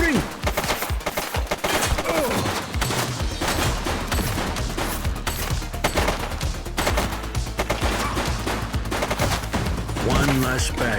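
Gunfire in The Precinct crackles in rapid, dense bursts of shots, close and loud, continuing almost without pause through a noisy action scene.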